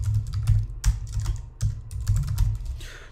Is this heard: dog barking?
no